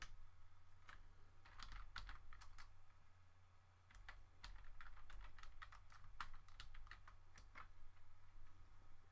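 Keys clatter on a computer keyboard in quick, irregular bursts with short pauses, quiet and close in an otherwise still room.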